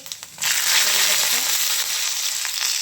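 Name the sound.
cumin seeds sizzling in hot ghee in a kadhai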